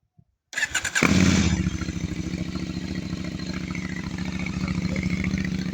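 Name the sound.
KTM 890 Adventure R motorcycle starting with upgraded exhaust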